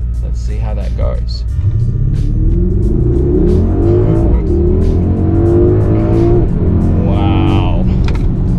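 A 2021 Mercedes-AMG GT R Pro with a 450 kW turbocharged V8 accelerating on a country road, heard from inside as a loud, steadily rising engine note with gear changes and a voice speaking over it.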